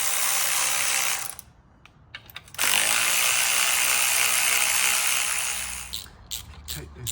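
A ratchet clicks rapidly while oil pan bolts come out of an Audi A4, running in loud bursts with a short pause near the middle and a few separate clicks at the end.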